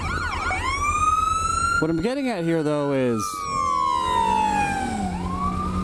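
A wailing ambulance siren sweeps up and down close by in traffic, heard from a lane-splitting motorcycle, with someone talking over it partway through and road noise underneath.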